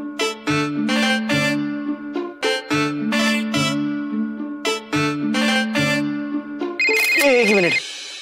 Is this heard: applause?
no